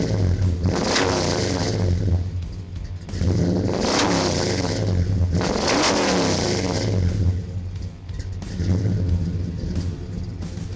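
A Road Burner GTO muscle car with a performance exhaust revs hard several times, each throttle blip swelling into a loud, deep roar before settling back to a throbbing idle, close and with no talking.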